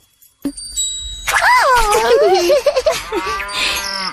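Calves moo in an animated cartoon, one long wavering bleat followed by shorter lowing calls, close and clear with a faint bell chime at the start.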